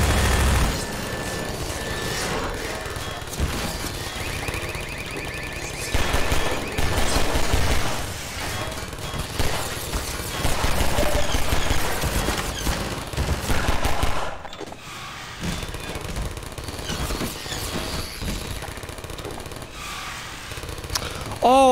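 Sustained automatic gunfire aimed at the player in Half-Life 2, a rattling, jackhammer-like stream of shots continuing for many seconds with brief dips, with little or no talking over it.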